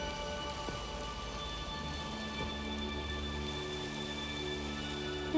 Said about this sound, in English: Always looking at the rain.